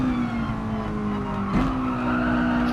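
Mazda touring car tires locking up under braking at Interlagos in a racing game, a steady engine drone with a squealing skid that shifts pitch briefly as the car slows.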